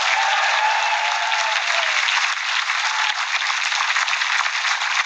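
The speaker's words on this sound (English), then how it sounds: "Make some noise for Thomas Leeds." Audience at a live storytelling show at the Fringe 2019 breaking into loud, dense applause that fills the room steadily, then thins slightly toward the end, with no talking over it.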